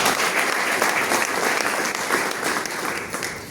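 An audience at a hosted event breaks into strong, sustained applause, dense steady clapping filling the room throughout.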